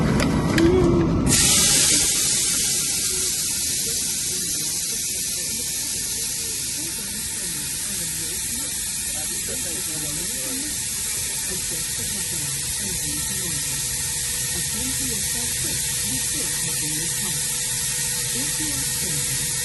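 A full-motion flight simulator gives a steady, loud mechanical roar with broadband hiss and a low rumble throughout, after a brief burst of noise at the start.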